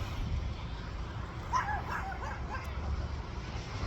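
A dog barks and yips briefly in the distance, faint under steady outdoor background noise.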